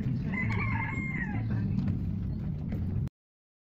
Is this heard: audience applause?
no